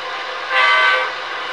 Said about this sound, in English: Pretty neat train here.